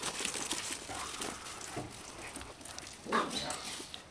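Great Danes and a Chihuahua play together indoors, giving scattered barks, yips and whimpers at moderate loudness over a steady noisy background.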